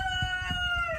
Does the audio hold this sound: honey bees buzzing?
no